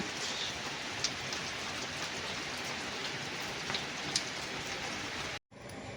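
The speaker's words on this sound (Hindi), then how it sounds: "केतनी केते वर्षा है।" Steady rain falls with a dense, even hiss of drops on surfaces and a few louder individual drops, continuous and fairly close until a brief cutoff near the end.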